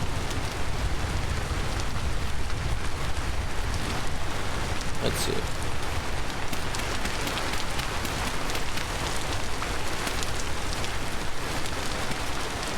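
Steady rain hiss pours over a Vintage Story game world, continuous and loud throughout, with a brief spoken remark partway through.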